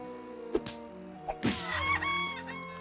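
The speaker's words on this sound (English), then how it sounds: "any other chickens out here in the map?" A chicken in the Little Misfortune video game clucks and crows in a few sharp bursts, fairly close, alongside a steady tonal musical background and no speech.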